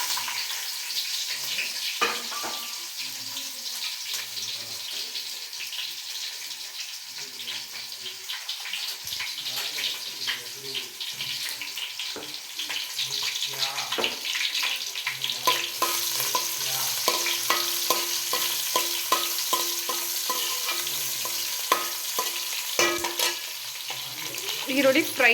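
Chopped onion fries in a pan for a chicken masala, a loud close sizzle with frequent scraping stirs and clatters from a spoon, going on throughout with no talk.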